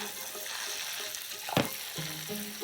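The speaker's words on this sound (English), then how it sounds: "add the butter, and it'll make a bit of a noise" Butter added to hot caramel gives a soft, steady sizzle with a brief burst of bubbling and a spoon stirring once, close by, no voices.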